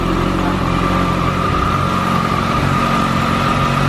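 A 2022 Kawasaki ZX-14R engine runs from a cold start, holding a steady, close, throbbing idle with a deep low rumble throughout.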